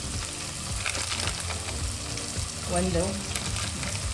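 Tomato masala for chicken biryani frying in a pan, a dense continuous sizzle with stirring scrapes, close and fairly loud, with a brief spoken word over it.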